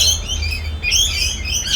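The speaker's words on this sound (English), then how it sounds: "the bird's having a good chat" A wild bird calling loudly nearby during outdoor car frame work, a continuous run of shrill chirps and whistles with no talking.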